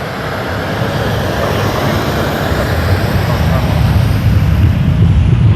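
An airliner taxis at Toronto Pearson Airport, a loud steady broadband engine roar and rumble that swells slightly toward the end, with someone talking over it.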